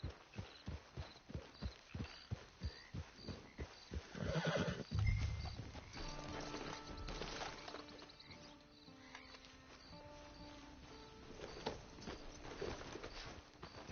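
A horse in the Red Dead Redemption Online video game, its hooves clip-clopping in a quick regular rhythm, then a loud close whinny midway, followed by softer shuffling and ambient game sounds.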